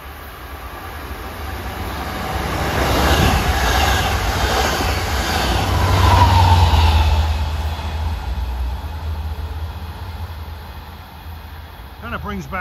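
Long Island Rail Road train 615 out of Port Jefferson rolls past, a continuous rumble of wheels and motors building to a peak near the middle, with a voice speaking over it.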